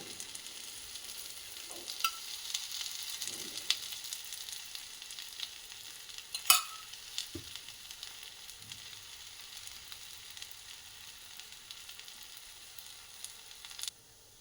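Thalipeeth frying in oil in a pan over a low flame gives a soft, steady sizzle, with a few sharp clinks and scrapes of a utensil against the pan.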